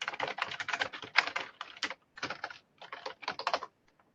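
Quick, close clatter of a computer keyboard as a caption is typed for a social media post, rhythmic bursts of keystrokes with brief pauses, no talking.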